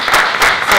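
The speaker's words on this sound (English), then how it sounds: "we can clap for that" An audience at a startup social gathering claps, a short, fairly loud burst of many hands with a couple of slight swells.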